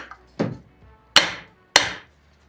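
A hammer taps on a stuck driveshaft yoke of a Toyota Tacoma during a carrier bearing repair, with four sharp metallic strikes spaced apart, loud and close, with no talk.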